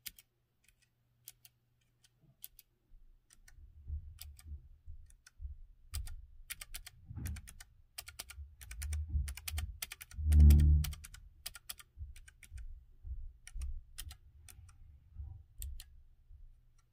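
Typing on a Keychron K3 low-profile keyboard with hot-swappable optical red and blue switches: close, crisp clicking keystrokes in irregular bursts, quiet overall and without speech.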